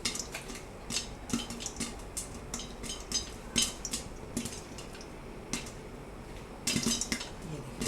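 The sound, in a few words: popcorn popping in a kadhai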